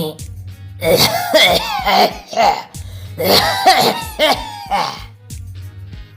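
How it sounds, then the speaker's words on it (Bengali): Repeated loud, hacking coughs in quick bursts, close up, with throaty strained sounds between them and some music-like tones underneath. "আপনার কাশিটা আদৌ ভালো ঠেকছে না"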